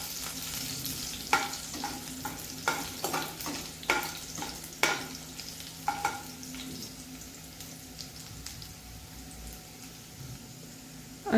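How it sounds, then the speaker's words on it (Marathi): Garlic sizzles in a hot pan while a spoon stirs it toward golden brown, a steady soft frying hiss punctuated by repeated scraping clicks, close and moderately quiet. "लसूण आपल्याला थोडासा गोल्डन ब्राऊन होऊन द्यायचा आहे."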